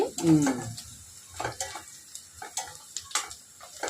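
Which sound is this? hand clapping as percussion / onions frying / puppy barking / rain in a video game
onions frying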